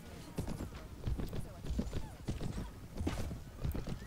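Horse hooves clatter in a rhythmic, busy gallop during a battle in the video game Mount & Blade: Warband, with repeated thumping beats under a constant din of fighting and a voice speaking throughout.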